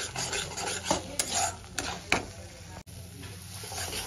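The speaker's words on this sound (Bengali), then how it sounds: "মশলাগুলো দিয়ে আমি খুব সুন্দর করে কষাতে থাকবো" Spices being stirred and fried in a pan for a rohu fish curry, with a quiet steady sizzle and a few clinks and scrapes of a utensil against the pan, and no talking.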